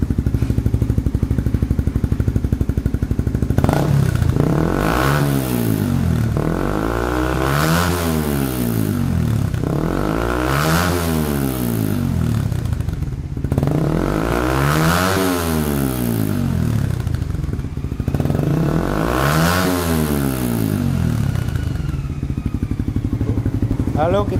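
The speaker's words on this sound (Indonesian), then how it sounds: "Lalu sekarang kita coba kita rev." A motorcycle fitted with a smoke muffler idles and is revved in five or six rising-and-falling bursts, each throttle blip swelling then dropping back, recorded close beside the exhaust with a steady lumpy idle between revs.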